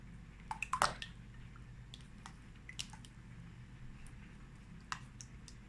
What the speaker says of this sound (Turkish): Şöyle bir çay bardağı eritilmiş tereyağı malzemeyi önce bir karıştırıyorum.